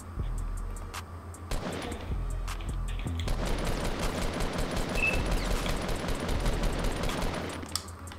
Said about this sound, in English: We are getting shot.